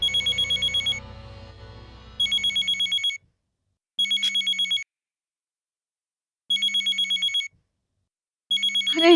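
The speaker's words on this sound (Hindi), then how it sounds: "अरे यार, किसका फोन है?" A phone ringtone sounds nearby as bright electronic bursts, five rapid trilling rings separated by short silences, with faint background sound under the first ring and a brief rustle at the end.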